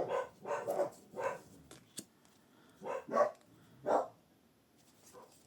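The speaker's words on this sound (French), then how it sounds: "vous avez des chiens qui gueulent derrière" Dogs bark in the background behind a quiet room, a burst of four quick barks, a pause, then three more spaced barks and a faint final one, moderately distant.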